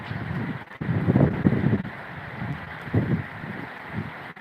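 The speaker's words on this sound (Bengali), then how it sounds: "বৃষ্টি হচ্ছে খুব জোরে বাতাসও বইতেছে জোরে" Strong wind buffeting the microphone during heavy rain, low roaring gusts that swell and fade, with a constant wash of noise beneath, close and without talk.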